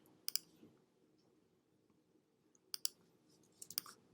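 Computer mouse clicks sound in three quick, crisp bursts, each a close double click, separated by quiet pauses while drawing with a pen tool.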